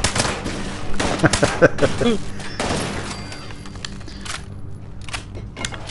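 Gunfire in the video game Fallout 76 rattles out in rapid, dense bursts through the first half, then thins into scattered, quieter shots and ambient game noise.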